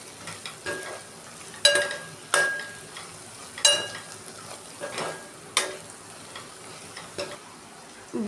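Turmeric, salt and chili powder being stirred in a pan, with repeated scraping strokes of a spoon and a light sizzle underneath. The strokes come in irregular bursts, close by and moderately loud, and no one speaks.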